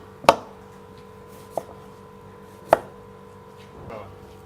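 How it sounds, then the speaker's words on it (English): A knife thinly slicing raw fish for ceviche on a cutting board: three sharp, separate chops spaced about a second apart, close and clear, with a faint fourth cut at the end. "Thinly sliced, just like that. Okay, so this is the fish. Thinly sliced."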